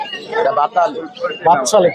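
At a Mirpur bird market, a common myna gives short chattering calls amid nearby people talking, the bird notes brief and mixed into the conversation.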